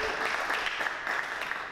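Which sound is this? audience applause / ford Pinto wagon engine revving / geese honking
audience applause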